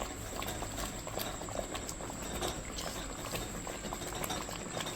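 Carrot halwa with sugar and cardamom powder simmers in a pan, giving a steady, close, bubbling crackle throughout with no talking.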